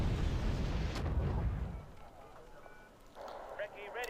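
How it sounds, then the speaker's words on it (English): Artillery bombardment in a strategy game lands as a loud, rumbling explosive burst that fades out over a couple of seconds, followed by quieter distant crackles while someone speaks. "I can now start bombardment fires on Hotel"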